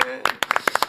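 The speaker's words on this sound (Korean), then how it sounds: "정청래 민주당 대표 박수로 모시겠습니다" A brief scatter of audience applause greets Democratic Party leader Jung Chung-rae as he arrives on a talk show, with a handful of sharp clap bursts ringing out close by.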